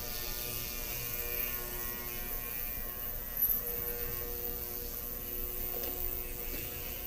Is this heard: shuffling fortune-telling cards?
no